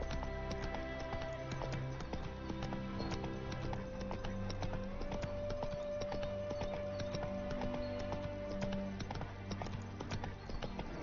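Roach, a horse in The Witcher 3, clip-clops along in a steady rhythm of hoof strikes, with faint game music underneath and a brief whinny amid the quiet, even hoofbeats.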